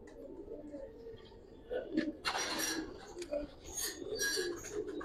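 Domestic Giribaz pigeons coo softly and close by amid rustling, wing shuffles and light wooden knocks, with bursts of movement noise in the second half and a person talking in the background.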